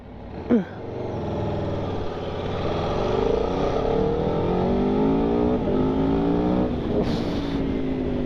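A 2021 Aprilia Tuono V4 Factory 1100 motorcycle engine accelerating on the road, its pitch climbing through gear changes with a strong, close, continuous drone.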